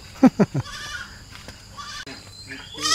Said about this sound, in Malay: Dah mengembek lah kambing tu.